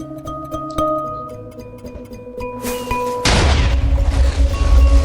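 A nuke detonates in a video game. A deep, loud boom erupts partway through, cutting over layered game tones and clicks, and is followed by sustained rumbling.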